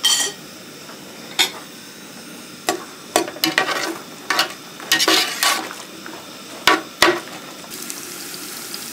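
Onions frying in oil in a pan give a soft steady sizzle, broken by clattering scrapes and knocks of a utensil stirring against the pan, close and without talk.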